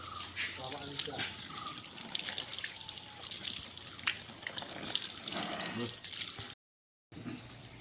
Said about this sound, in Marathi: तर आम्ही आता केळीची पानं धुवून घेतो।